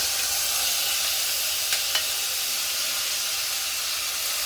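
Onion and tomato fry in hot oil with spices, giving a constant, even sizzling hiss at close range, broken only by a couple of faint clicks.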